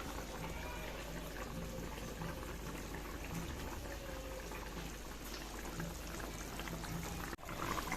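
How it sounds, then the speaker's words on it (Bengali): A pot of fish curry simmering, a low steady bubbling and burbling that holds through the whole stretch until a short dip near the end, with no talk. "মাছটা দেওয়ার পরে ঝোলটা ফুটে গেছে"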